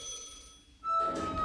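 A telephone rings alone in a quiet room: a faint trilling ring fades out, then after a short silence a louder bright electronic ring starts and keeps sounding.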